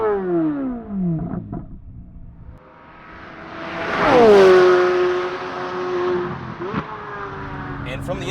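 Outside a 2023 Corvette C8 Z06, the V8 engine revs from idle, climbs in a loud rising wail that peaks, then drops back and settles, with a brief passing blip early on.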